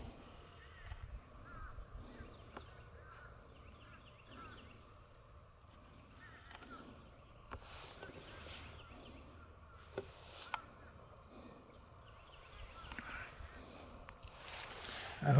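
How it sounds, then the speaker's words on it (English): A large flock of crows streaming overhead at Snuggedy Swamp, scattered caws from many birds repeating near and far over a quiet outdoor background, with soft rustling and occasional handling noise. "nice river of crows"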